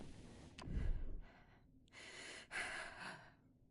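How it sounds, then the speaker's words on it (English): A player breathes over voice chat in the game Quarantine Zone on PS5, making a sharp, close gasp followed by softer, airy breaths and a short exhale, all faint. "Let me hear your breathing again."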